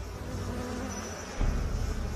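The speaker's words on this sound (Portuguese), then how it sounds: "Abelhas, vespas e marimbondos assustam todos nós." Bees and wasps buzz in a steady, continuous drone, with a slightly louder, closer burst of buzzing toward the end.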